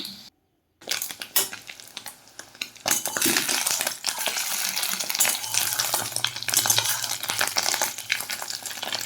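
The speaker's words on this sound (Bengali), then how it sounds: "মাছের ডিমের বড়াগুলো উল্টে পাল্টে আমি ভেজে নেব" Fish roe fritters frying in a generous amount of oil over low heat, a steady close sizzle and crackle with scraping stirs as they are turned, loud and continuous after a brief silent gap near the start.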